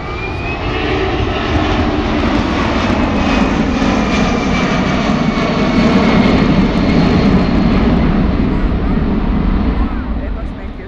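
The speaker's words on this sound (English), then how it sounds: "Now, Captain Ken maneuvering the aircraft for a full flap approach to a simulated short field runway" Loud, steady roar of C-17 Globemaster jet engines during a flight demonstration as the aircraft maneuvers for a full-flap approach to a short field, a continuous broad rumble with a faint rising whine.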